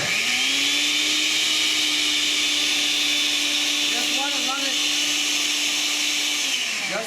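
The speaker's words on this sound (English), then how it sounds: "Now, you don't have to use a blender. I'm going to for display purposes" A blender runs steadily for about six seconds, dissolving a mixture for a Morgellons scrubber, its loud constant whine starting and stopping cleanly against a broad hissing background.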